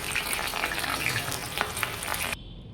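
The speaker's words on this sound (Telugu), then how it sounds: "సన్నగా పొడుగా కోసి పెట్టుకున్న ఉల్లిగడ్డ ముక్కల్ని వేసుకొని డీప్ ఫ్రై చేసుకోవాలి" Thin, long-sliced onions deep fry in hot oil, giving a dense, steady sizzle and crackle with small pops, close by, until it cuts off abruptly.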